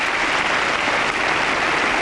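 Crowd applause at a professional tennis match, a dense, loud, sustained clapping from a large audience with no voices standing out.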